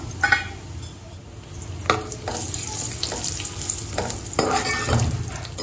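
Pieces of pitted apricot roast in hot ghee, a steady close sizzle broken by several sharp spatula scrapes and stirring knocks against the pan, no voices.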